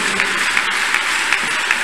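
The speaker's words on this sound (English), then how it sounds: "Clap for Jesus, clap for Jesus, clap for Jesus" Church congregation clapping during a healing and deliverance prayer service, loud, dense and continuous applause-like clapping from a large crowd, steady throughout the short stretch.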